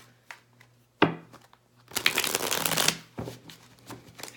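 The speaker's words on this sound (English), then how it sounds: "This deck is so hard to shuffle. The cards are very thick." A thick, stiff tarot deck being shuffled by hand, with a sharp riffle near the start and a longer dense burst of card flutter in the middle, then softer handling; close and fairly loud.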